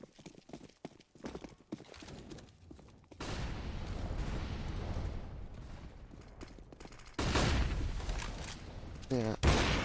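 Gunfire from a Counter-Strike match on the Train map at a StarSeries esports tournament comes as a steady roar of shots and noise, growing louder near the end, with sharp clicks at the close.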